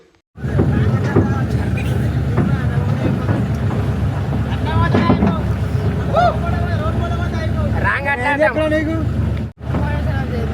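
A tractor pulls a trailer full of youths on a village road, its engine a steady low rumble running under loud excited chatter and shouting from the riders throughout.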